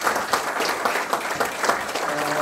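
A room full of people claps steadily after a lecture, a dense patter of applause holding at an even level throughout.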